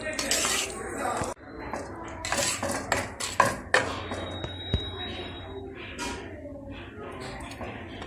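A spoon stirs bread halwa in a pan with ghee-fried raisins and cashews, making intermittent metallic scrapes and clinks. Someone speaks over the stirring.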